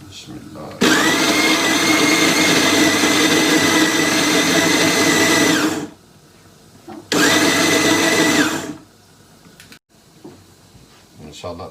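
A kitchen blender purees garlic, green chili, ginger and tomato for an urad dal masala, whirring loud and steady for about five seconds, stopping, then roaring again in a shorter second burst before falling quiet.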